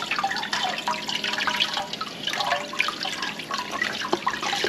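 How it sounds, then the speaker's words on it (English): Homemade butter from a vintage cream separator being dunked and rinsed in a bowl of cold water to wash out the buttermilk: close, continuous splashing, sloshing and dripping, with no talk. "And then I'm just dunking it back into that bowl of cold water."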